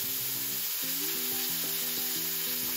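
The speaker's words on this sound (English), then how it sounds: "And that's it for the searing" Loud, steady hiss and crackle of brisket searing in an Instant Pot, continuous close-up sizzling with a faint tonal hum underneath throughout.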